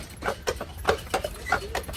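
Percheron draft horses pulling a tour carriage through Stanley Park, hooves clip-clopping in a steady quick rhythm on pavement, close and fairly loud, with no talk over them.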